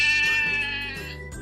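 A single goat bleat, a wavering nasal cry that fades over about a second, heard alone and close.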